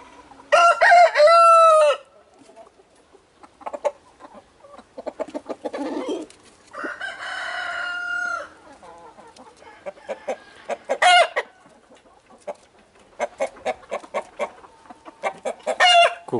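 A rooster crows loudly in several long, strained calls, with clucks and short rapid bursts in between. No voices.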